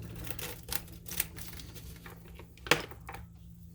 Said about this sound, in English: I should use some scissors.